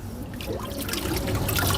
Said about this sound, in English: I'm going to turn off the water